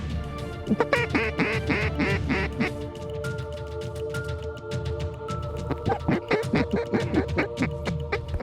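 Mallard ducks quack repeatedly in a lively chorus, loud and close, with rapid rhythmic bursts of calls coming in clusters and overlapping over several seconds.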